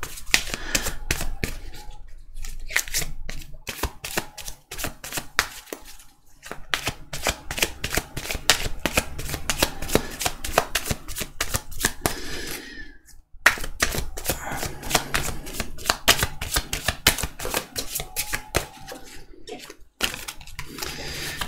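Tarot cards shuffled by hand in repeated riffling bursts, a dense crisp papery flutter with brief pauses between rounds, close and steady, with no voice over it.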